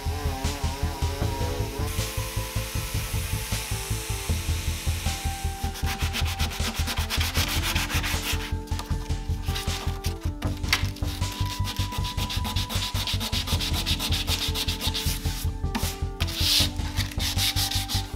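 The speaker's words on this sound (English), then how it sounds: "I'm going to take my sander to this now and use my foam abrasive sander for my surf prep and round off these edges" A foam abrasive sander runs steadily on an old 1940s wooden desk, rounding off the edges during surface prep, with a continuous loud buzzing hum and dense, even rubbing texture throughout.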